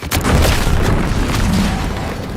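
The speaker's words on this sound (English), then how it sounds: "What's that? An explosion?" Explosion in the video game The Outer Worlds 2, a sudden loud boom that swells into a dense, rumbling roar lasting a couple of seconds before slowly easing, with no talk.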